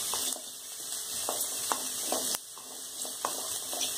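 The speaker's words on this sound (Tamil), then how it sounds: "போட்டு நல்லா வதக்கி விடுங்க" Chopped ginger sautéing in a pan for ginger thuvaiyal, a steady close sizzle with light intermittent clicks of stirring against the pan, no voices.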